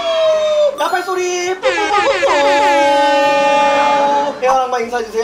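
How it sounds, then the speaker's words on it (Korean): A loud, sustained brassy horn blast sound effect with a steady pitch, holding for several seconds amid a busy, noisy Minecraft game mix, with a brief cut partway through. "나팔소리!"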